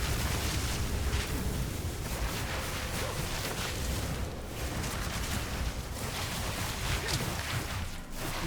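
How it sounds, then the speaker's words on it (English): Cold explosions in Path of Exile 2 crackle and thump in a steady, dense wash of repeated bursts and rumble that lasts throughout, with no pauses. "Some kind of cold explosions."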